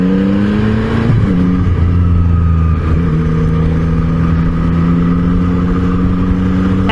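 A 2022 Yamaha MT-09 V3 motorcycle pulls away, its loud engine drone rising and shifting in pitch as the rider accelerates, heard continuously and close, with a steady wind rush underneath.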